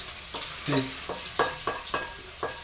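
Garlic fries in a very hot wok, a steady loud sizzle with rhythmic bursts as it is stirred and tossed around the tilted pan.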